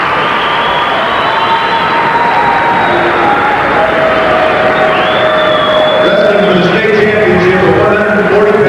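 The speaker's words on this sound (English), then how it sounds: "Crowd supporting the Plainville wrestler." A loud crowd cheers and applauds at a 1998 Kansas high school wrestling match in the 140-pound class, a dense, continuous roar with whoops, and an announcer talking over it.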